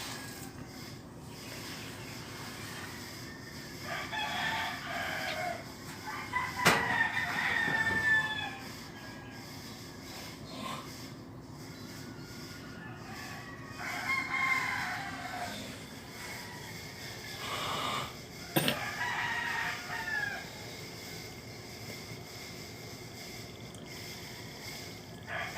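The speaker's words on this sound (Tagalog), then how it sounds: "Daming ibon." Morning outdoors, several birds call in scattered bursts over a low background hum, including what sounds like a rooster crowing and fowl clucking at moderate distance, with no talk.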